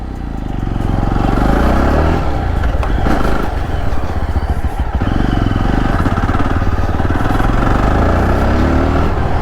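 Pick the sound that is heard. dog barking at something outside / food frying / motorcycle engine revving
motorcycle engine revving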